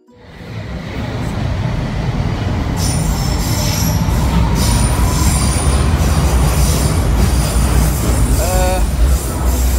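Train carriage ride in London with steady loud rolling rumble and clatter, metal wheels squealing in brief high screeches partway through, close and continuous with no talk.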